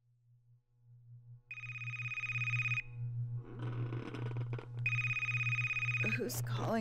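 A telephone rings in two long, loud bursts of bell-like trilling, with a steady low hum running underneath throughout.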